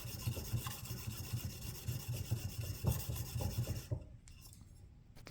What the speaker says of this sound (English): so I'm just going straight to my 1000 grit stone